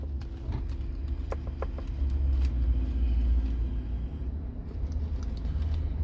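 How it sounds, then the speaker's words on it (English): The 5.3 L V8 of a 2004 Chevrolet Avalanche with a P0300 misfire code idles after starting, a steady low rumble heard up close with a few light clicks and slight swells in loudness, no voices. "I'm gonna start my car."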